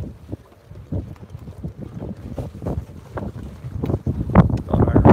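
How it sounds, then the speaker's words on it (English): Gusty evening wind buffets a boat, rumbling and flapping against the microphone in uneven surges that build louder toward the end. "wind blowing"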